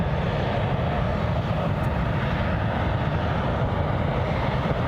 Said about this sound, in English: Not entirely sure, but that looks like that might be a Grob tutor.